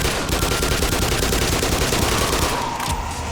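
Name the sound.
MP5 gunfire in the video game Black Mesa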